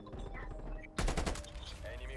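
Sharp gunshots from a sniper in a shooter video game crack out in a burst of several close, loud reports midway, set against steady game noise.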